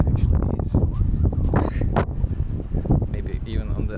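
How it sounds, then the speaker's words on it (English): Strong beach wind buffets the microphone in continuous loud, gusting rumbles throughout, with rustling plants underneath and no clear pause. "the wind is really strong here"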